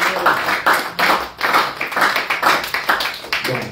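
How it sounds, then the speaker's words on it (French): Church congregation clapping during a Sunday service, a fairly loud, steady rhythm of hand claps keeping time together with no talking over it. "Applaudissez pour le Seigneur."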